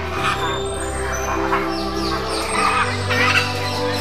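Yellow macaws fighting at Vandalur zoo give harsh, raspy squawks that repeat in bursts over a busy background of other birds and crowd noise, fairly close and loud.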